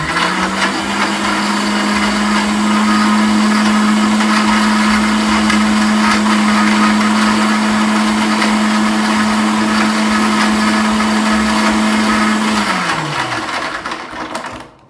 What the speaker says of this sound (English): Okay guys, time to blend.